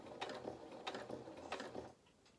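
A sewing machine slowly stitches fabric for a small doll's pinafore, with three or four distinct mechanical whirring bursts spaced about half a second apart before it stops, close and quiet with no voices.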